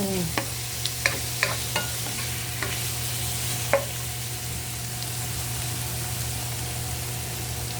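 Shrimp frying in a pan for pancit bato, an even sizzle over a low steady hum, with a handful of sharp utensil taps early on and one louder knock.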